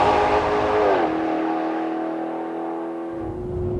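A 2013 Maserati GranTurismo Sport engine roars loudly and close, its pitch dropping through a gear change before holding a strong, steady note.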